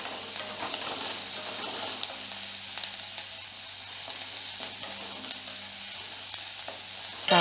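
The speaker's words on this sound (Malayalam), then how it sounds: "ഈ സവോളയിലേക്ക് നമുക്ക് ഈ ഉപ്പ് ഇട്ട് കൊടുക്കാം. അപ്പോൾ സവോള വേഗം ഒന്ന് വഴന്ന് കിട്ടും." Onion with salt and curry leaves sautés in a pan for a Kerala kappa puzhukku, giving a steady, close, hissing sizzle that runs continuously with faint stirring scrapes and no talking.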